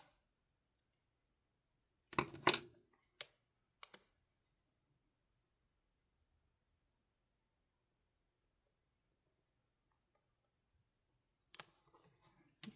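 Scissors trimming the edges of paper planner pages: a short cluster of crisp snipping cuts, then a few isolated clicks, followed by a long quiet stretch and more faint rustling and cutting near the end, close and soft.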